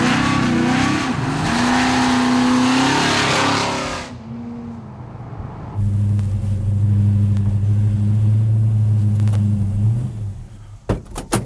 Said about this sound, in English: Cruising the back roads of Pennsylvania in a 426 Hemi.